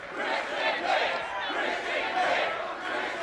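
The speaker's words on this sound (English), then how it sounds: "Crowd screaming Christian's name, trying to fire him up." Wrestling crowd at a TNA match between Christian Cage and Jeff Jarrett, loud dense arena noise with many voices shouting and chanting, a steady roar sustained throughout.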